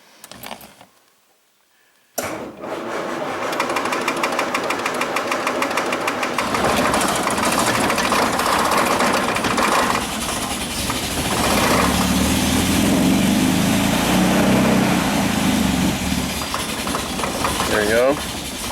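A 1967 Austin Healey engine with a little choke applied idles steadily and fairly close after a brief quiet start, its low rumble holding a continuous rhythm with a slight shift in tone midway.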